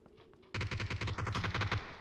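Rapid automatic gunfire in PUBG on a snow map, a dense burst of close, loud shots starting abruptly and rattling steadily for about a second and a half before cutting off.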